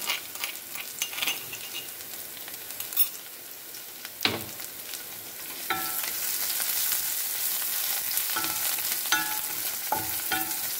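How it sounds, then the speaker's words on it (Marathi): Ginger-garlic paste sizzles in a pan with onions, a soft frying hiss that grows fuller midway, broken by occasional scraping stirs and clinks of a spoon, fairly faint and close with no voices. "आता मी त्यामध्ये आलं आणि लसूण याचं पेस्ट टाकत आहे."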